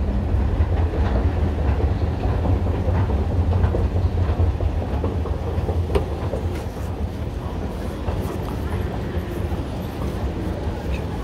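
A Stockholm metro train rumbles and clatters through a station in a loud, steady roar of rails and wheels, with voices faintly beneath it.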